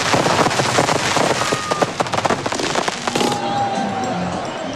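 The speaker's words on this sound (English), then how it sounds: "10 metres away from about 30 tonnes of fireworks, falling debris, gunpowder in the air" A huge fireworks display at a national pyrotechnics festival bursting about ten metres away, with dense rapid crackling explosions and a roaring crowd, then a high thin whistle as the barrage thins out.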